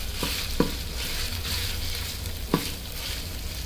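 Ginger paste frying in a pan for khichuri makes a soft, even sizzle, with a few sharp clicks where the utensil strikes the pan, and no voices.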